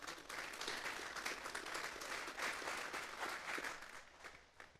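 A church congregation applauds during a sermon, a dense, steady patter of many hands clapping for several seconds before fading at the end, heard at moderate distance.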